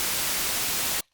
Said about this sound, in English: we turn it on, it's a quieter white noise